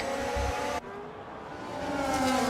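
F1 race cars in a racing video game drone loudly, then the sound drops abruptly as the view cuts. Engine noise rises again toward the end, with no talk.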